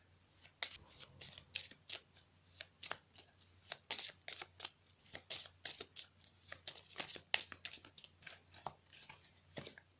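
Tarot cards shuffled by hand up close, a quick run of sharp riffling flicks and snaps repeating steadily for about ten seconds with no talking.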